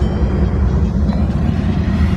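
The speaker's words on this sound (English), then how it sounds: "So please excuse the train" A train passes nearby as a steady, loud low rumble that fills the whole stretch with no clear pauses, heard alone without talk.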